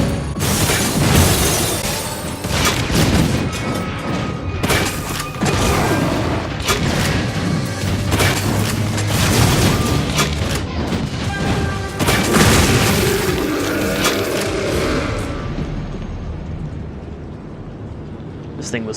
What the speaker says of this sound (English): There's just something so wonderfully deliberate about a break-action grenade launcher.